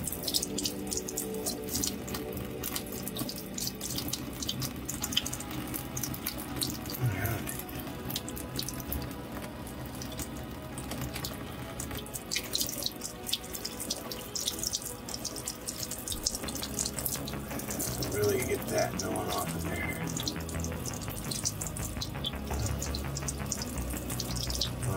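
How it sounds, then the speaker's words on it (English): Warm tap water runs steadily over a painted PS5 controller part in a sink, a continuous close splashing stream lasting throughout without talk. "I'm gonna run that under the water"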